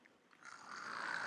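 Schoolchildren in a classroom imitate snoring together, a short burst of breathy, rasping snore sounds that builds from quiet to a louder group drone.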